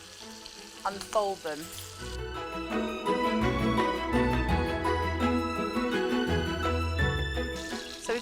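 Faggots browning in hot oil in a pan give a steady, close sizzle and crackle throughout. Music plays under the frying, and a brief voice speaks near the start.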